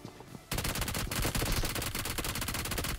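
Sustained automatic gunfire from BGMI, a battle royale mobile shooter, bursting in loud and fast after a brief quiet opening and rattling on continuously to the end.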